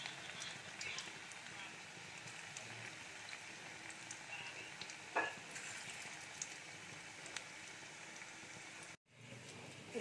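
Banana flower koftas fry in oil in a pan over low to medium heat, making a faint, steady bubbling sizzle with scattered small pops that cuts out briefly near the end.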